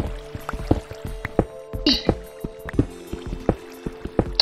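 In a small cave inside a video game, water drips and splashes in an irregular, steady patter of close, gentle plops and squishy droplets, with no talking over it.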